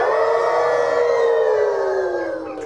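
Children's voices imitate a wolf howl together, one long sustained rising-then-falling cry held for a couple of seconds, loud and near, with no other sound.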